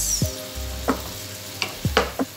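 Tomatoes cooking in a pan with onion and garlic, a soft steady sizzle under a few sharp clinks and scrapes of a utensil against the pan.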